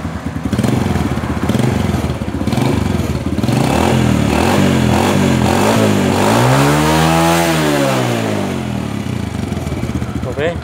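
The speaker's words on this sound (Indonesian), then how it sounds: "kita coba gas lagi" A Honda Supra Fit New motorcycle engine, being checked for a knocking sound when the throttle is released, revs up loudly at close range, climbing and falling in pitch over a rough, rattling idle.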